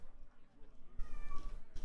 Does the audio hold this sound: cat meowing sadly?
yes